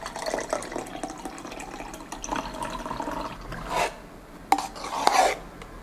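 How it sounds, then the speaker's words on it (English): Milk tea pours into a cup in a few short splashing bursts, close and moderately quiet, with some rubbing and handling sounds. "Pour your drink over."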